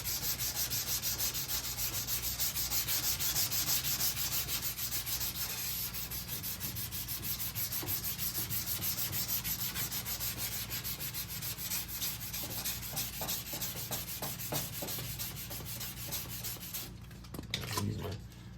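Hand sanding block rubbing over primer on a 1968 Firebird fender, steady close back-and-forth strokes running continuously with no voices, then a few sharper knocks and scrapes near the end.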